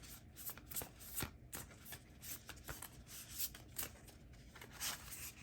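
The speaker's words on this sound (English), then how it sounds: "having to shuffle the deck in half" A tarot deck riffled and shuffled repeatedly, a crisp rapid flutter in bursts with brief pauses, close up and fairly quiet, no talking.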